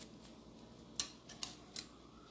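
Scissors snipping the tops of dried garden garlic: three crisp, quiet cuts spaced about half a second apart over a faint background hiss.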